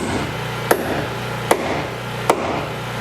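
Three sharp hammer blows drive a nail into tongue and groove boarding during an A-frame cabin build, spaced evenly about a second apart, close and distinct over a low steady background hum.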